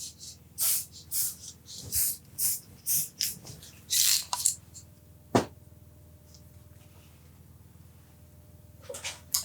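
A rapid series of short, close puffs from a puffer bottle spraying static grass on a model railway, each a sharp airy hiss, followed by a quieter stretch with a single click and a couple more soft bursts.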